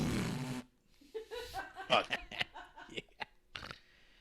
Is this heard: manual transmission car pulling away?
no